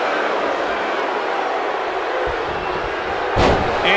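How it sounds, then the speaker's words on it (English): WWE 2K19 women's wrestling match in NXT between Shayna Baszler and Kairi Sane. A steady crowd roar fills the arena, broken by a heavy thud as one wrestler slams the other down onto the mat. "And she slams her back down."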